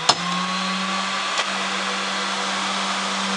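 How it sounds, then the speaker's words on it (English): A steady vacuum motor hum from a Nobles SS5 floor scrubber, with a constant low drone and broadband whir, running continuously after a brief click at the start. "We'll also turn our vacuum on."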